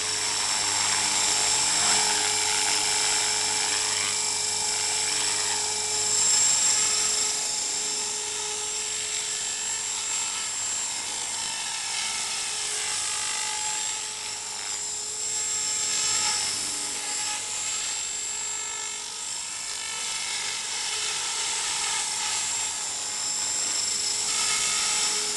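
A helicopter flies close by in a video game, a loud, steady rotor and turbine whine with rhythmic thudding that persists throughout.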